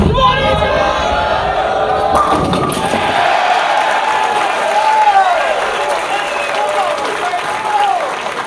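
Crowd at the U.S. Open bowling finals cheering and applauding loudly, a thick roar of clapping and shouts that swells and then thins out, with voices mixed throughout.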